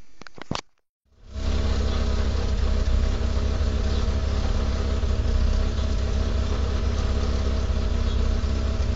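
A VW Golf 2 16S engine cranks briefly, then catches and settles into a steady, loud idle with a low rumble after a fuel pump refit.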